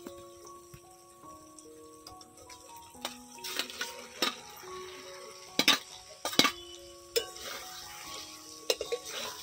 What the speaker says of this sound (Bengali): এবারে আমি করলা আর আলু দিয়ে দিব।